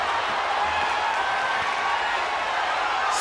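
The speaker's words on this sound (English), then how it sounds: "The sound of this crowd is deafening, and he's asking for more." A dense, loud wrestling arena crowd roar fills the space, a continuous wash of cheering and shouting from a large audience during an ambulance match.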